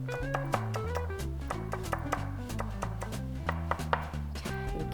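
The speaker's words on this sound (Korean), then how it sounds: "이렇게 좀 잘게 썰어서 이것도 씹히면 굉장히 또 매운맛을 낼 수 있기 때문에 좀 잘게 썰어 주시면 좋을 것 같습니다" A knife finely chops seeded chili pepper on a board in quick, steady light taps, heard over background music.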